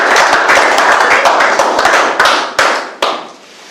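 Church congregation clapping in a quick, steady rhythm of close, sharp claps that thin out into a few louder single claps at the end.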